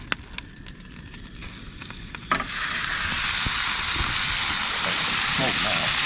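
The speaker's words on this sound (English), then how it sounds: "cheeseburger on here, so I'm not wasting any time getting that cooked up" A cheeseburger patty cooking in a greasy non-stick pan inside a truck, starting with a light clatter and then bursting into a loud, steady sizzle that holds to the end.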